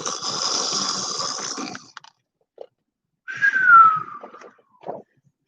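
A voice imitates snoring: a long breathy inhale followed by a whistling exhale, with short mouth noises in between.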